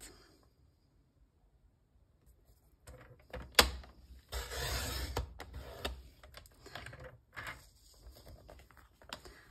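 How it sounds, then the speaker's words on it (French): A paper trimmer (massicot) slicing card stock for a patchwork card: after near silence, a sharp snap followed by rustling and sliding blade and paper sounds, close and fairly quiet, in short irregular bursts. "on va prendre notre massicot et on va venir découper tout ça"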